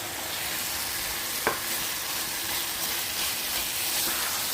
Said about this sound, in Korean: 요 무렵에서 이제 양파 넣어줍니다.